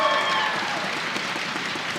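A crowd at the Lancaster Archery Classic senior open finals breaks into steady, dense applause that fills the whole stretch at an even level, with a few cheers and voices mixed in.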